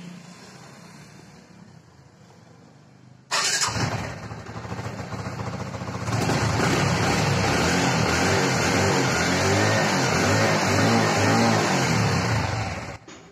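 A TVS Victor BS4 motorcycle engine is started after a quiet lead-in, catching abruptly and settling into a steady idle, then rising into a louder, fuller running sound close by, with no talking.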